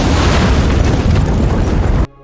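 A loud explosion in an action film about robbers in a building: a dense, roaring blast sustained for about two seconds before cutting off sharply to near silence.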